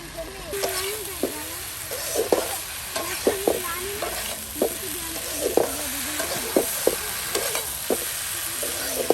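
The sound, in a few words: stirring spice paste into dried fish in a frying pan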